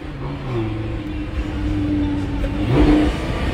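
A car engine revs up loudly from close by, its mid-pitched tone climbing steadily and building to a peak near the end, with a steady drone underneath and no talk.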